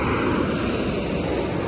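Sea waves at a beach, a loud broadband wash of surf roaring steadily with wind buffeting the microphone for under two seconds, no talking.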